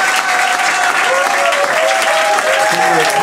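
An audience breaks into sustained, dense applause, clapping loud and close throughout, with crowd voices mixed in underneath.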